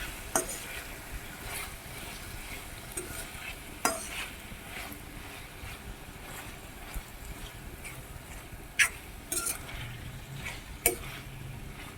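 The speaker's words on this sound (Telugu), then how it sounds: "చిక్కుడుకాయలు కలిపెట్టుకోవాలి" A spoon stirs broad beans into a tomato curry in a pan with steady soft sizzling, punctuated by occasional sharp clicks and scrapes of utensil against the pan.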